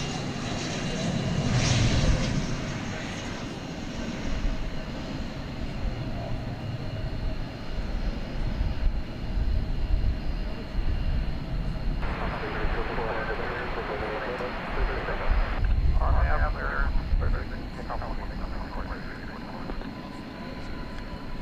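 American Airlines Airbus A321 arriving at DFW Airport at night, a sustained jet engine roar heard from a distance that swells and then fades, with voices talking over it.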